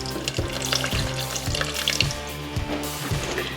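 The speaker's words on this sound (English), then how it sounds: "all you need to do is add a little bit of water" Water runs from a kitchen tap into a pan of rice, a steady close splashing stream with a few small clinks and no talking.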